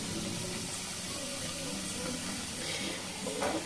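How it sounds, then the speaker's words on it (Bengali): Layered nimki snacks frying in hot oil over a low flame give a faint, steady hiss and soft bubbling sizzle throughout, with no talking. "তেল গরম হয়ে গেছে, এবারে এগুলোকে লো ফ্লেমে আমাকে ভেজে নিতে হবে।"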